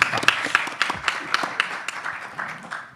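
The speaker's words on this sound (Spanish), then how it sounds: "Le damos un caluroso aplauso de bienvenida nuevamente." A warm welcoming applause from an audience at a church conference, with dense, close hand claps in uneven bursts that swell and fade over three seconds.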